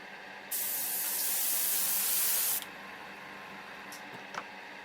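A spray can hisses in one steady burst of about two seconds while painting a plastic model, then stops, followed by a couple of faint clicks in a quiet room.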